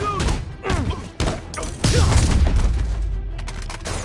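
Gunfire in the Spider-Man video game comes as loud thumping bursts and booming impacts in a busy combat mix, with shouted character voices layered over the shots.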